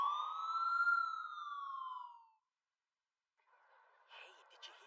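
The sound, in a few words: sirens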